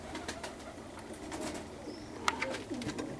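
Four Perm pigeons sit perched and give faint, soft cooing calls, with a few brief chirpy sounds standing out against a quiet outdoor background.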